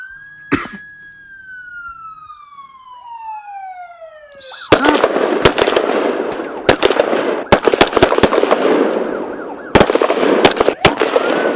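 Gunfire in the video game MadOut during a police shooting: after a siren-like sweep, bursts of loud, sharp shots crackle in irregular clusters, close and dense, with no talk.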